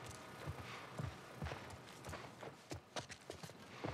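Hollow clip-clop hoofbeats of a horse walking at a steady pace, fairly close, with a few louder irregular knocks toward the end, from the video game The Last of Us Part I.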